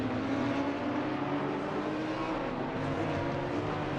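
Audi GT3 race car engine in Assetto Corsa Competizione, a steady mid-pitched drone holding at moderate level throughout, with no voices.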